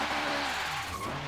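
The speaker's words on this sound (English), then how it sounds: "Crazy with the first gear, it just spins out like crazy." A turbocharged 1997 Honda Civic Type-R with a K20 motor and front-wheel drive, tuned past 700 hp, spins its tires in first gear in a racing game, giving a steady engine drone with screeching wheelspin throughout.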